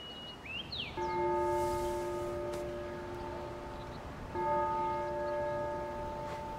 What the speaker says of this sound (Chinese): 钟声要来了。